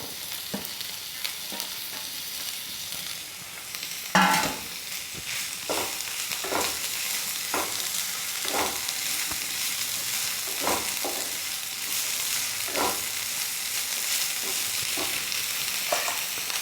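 Chopped capsicum for a veg spring roll filling sizzles steadily in a hot pan, with a loud clatter as it goes in, then regular scraping stirs recurring every second or so over the continuous frying hiss.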